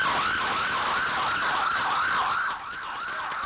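Emergency vehicle sirens wail in Baghdad after a bombing, a loud rising-and-falling electronic siren cycling steadily over traffic rumble, dropping slightly in level near the end.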